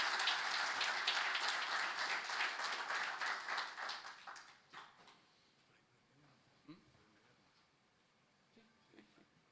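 Loud, sustained applause at a 27th-anniversary ceremony of CONPACOOP, Paraguay's cooperative confederation, honouring an engineer guest. The clapping fades out after about four seconds into a quiet hall with a few scattered sounds.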